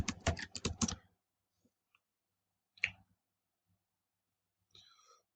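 Quick bursts of clicky keystrokes on a computer keyboard as a search is entered in a college library, a rapid run at first, then a few isolated taps and a short flurry near the end, with near silence between.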